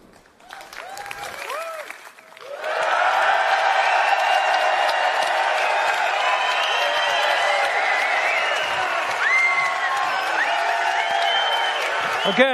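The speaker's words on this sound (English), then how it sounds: "As you can hear, we've got a great crowd here in London." Large crowd at the Hammersmith Apollo in London during an EA Play press event bursts into sustained applause and cheering after brief talk, with loud clapping and whoops that hold steady to the end.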